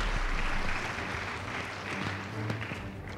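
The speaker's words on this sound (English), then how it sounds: "Please give them a round of applause." An audience at a school debate competition applauds, a loud continuous spread of clapping that holds steady from start to finish.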